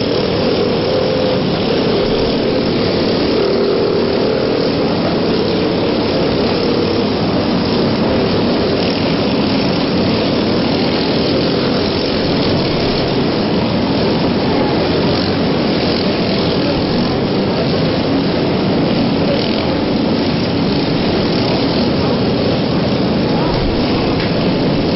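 A loud, continuous engine roar from a D9G tractor competing in a lawnmower bash contest, droning steadily for the whole stretch with a commentator talking over it.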